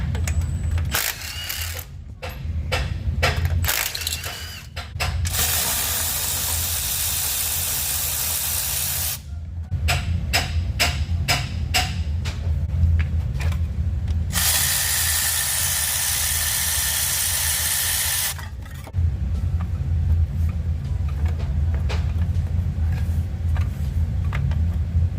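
Ratchet and air tool work on torque converter bolts of a 2018 Chevy Tahoe 6L80 transmission: long loud spraying bursts alternate with rapid clicking ratchet strokes, close up and without talk.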